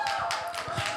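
A single person clapping alone, a few quick hand claps in steady rhythm, fairly soft and close over a faint background hum.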